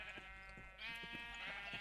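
Minecraft sheep give a short, nasal electronic bleat twice in quick succession, fairly faint over a steady game background hum, with no talking.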